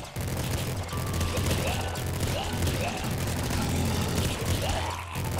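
A dense, continuous barrage of explosions and gunfire in the video game Nuclear Throne, loud chaotic blasts layered over game music with a voice talking over them.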